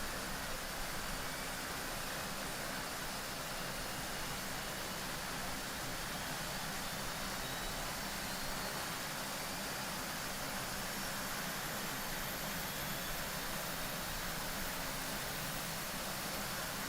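Simulated DHC Twin Otter turboprop left engine spooling up during start in a flight simulator, a steady broadband roar and whine holding level and constant throughout, with the other engine already running.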